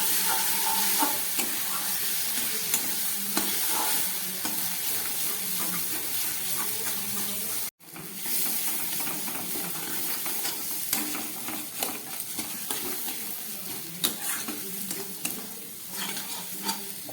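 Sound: stir-frying spice masala for rita tengra fish curry

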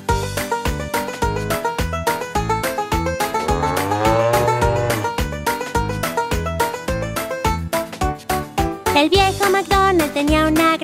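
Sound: cow mooing in a children's song

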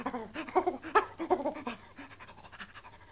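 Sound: dog panting

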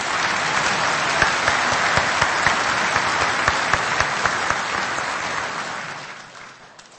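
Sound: audience applause for Jan de Boer

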